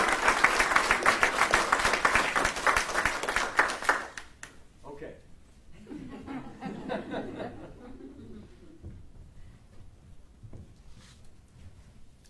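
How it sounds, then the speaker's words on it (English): An audience at a military promotion ceremony claps loudly for about four seconds, dense and continuous, then fades into scattered chuckles and murmured talk. "How about a round of applause for Dina?"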